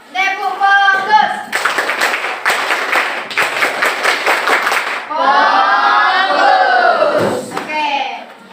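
A classroom claps out a rhythmic focus chant led by the teacher, with several loud bursts of group clapping that alternate with children's voices and spoken calls.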